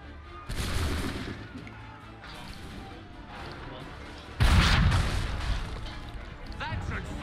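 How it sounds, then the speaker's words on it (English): Cannon fire in Assassin's Creed III, with loud booming blasts over battle noise and in-game voices; one heavy close shot stands out partway through. "I'm shooting a cannon. Kaboom!"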